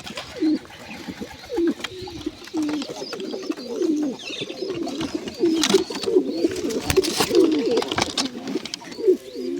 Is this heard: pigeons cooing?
yes